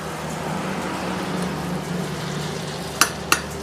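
Sev bhaji with milk cooks in a pan, giving a steady, soft simmering hiss, and three sharp clinks of stirring come at the very end.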